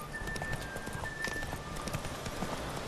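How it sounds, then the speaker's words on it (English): Horse hooves gallop in a rapid clip-clop rhythm in The Witcher 3, steady and fairly loud, with the game's background ambience underneath. "Go, horse, haul ass!"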